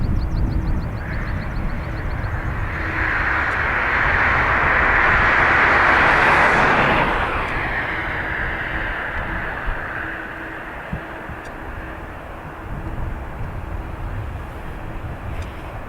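An airliner departing Dublin Airport, heard up close, swells into a loud broad roar that peaks midway and then recedes into a fading rumble.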